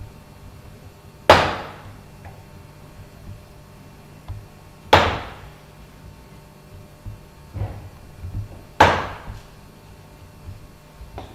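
A chisel struck with a mallet while cutting in a wooden door hinge recess: three sharp, loud, close blows spaced a few seconds apart, with a few softer taps between them.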